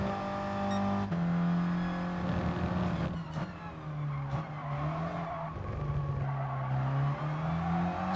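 A race car in Gran Turismo Sport with its engine note rising and falling in a steady drone, with some tire squeal and skidding mixed in and changes in revs throughout, with no talking over it.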